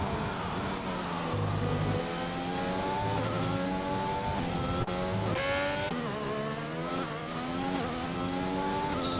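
Formula 1 race cars, including a Williams and a Renault, scream around the Brazil circuit in a racing video game, engines revving up and down in repeated rising pitch sweeps with gear changes, loud and close, with no voices.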